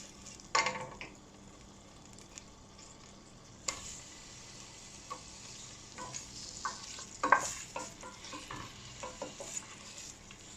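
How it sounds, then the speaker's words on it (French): Meat with onion, tomatoes, a small carrot and spices for a tajine sauce sizzles quietly in a pan, broken by several sharp spoon scrapes and clinks of stirring at irregular intervals. "je vais faire revenir ma viande. Ensuite je mets mon oignon et mes tomates avec la petite carotte et les épices."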